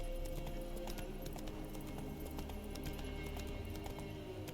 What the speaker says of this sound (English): I'll park my horse right here.